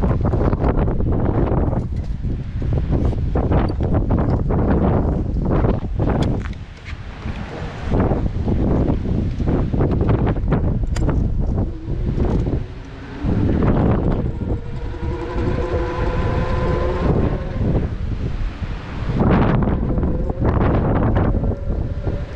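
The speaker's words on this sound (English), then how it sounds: "Wow, that was windy, wasn't it?" Strong wind buffeting the microphone in loud, roaring gusts while cycling along the coast from Largs North to Semaphore Park, nearly constant with a couple of brief lulls.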